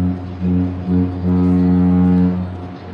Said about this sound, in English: That's a train honk.